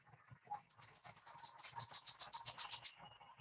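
A warbler sings a single three-part song, starting with sharp, slower staccato notes, then speeding into rapid high repeated notes that end almost as a trill. It is heard clearly and alone.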